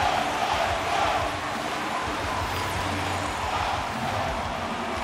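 An arena crowd roars continuously at a tied NHL 23 video game ice hockey match between the Philadelphia Flyers and Dallas Stars, a dense, loud, even wash of cheering with no breaks.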